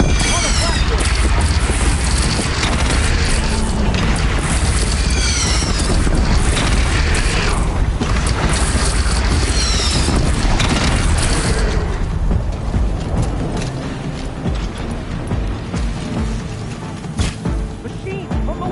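Loud, dense video game battle noise with booming cannon shots and mechanical clatter over shouting voices, thinning out toward the end.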